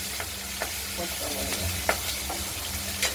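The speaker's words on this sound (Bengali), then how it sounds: "একদম ফট করে ফাটছে, তেল ছিটকে আসবে, গরম তেল" Small river fish fry in hot oil in a covered pan with a dense, steady sizzle broken by sharp pops and spatters at irregular moments, close and fairly loud, with no talking.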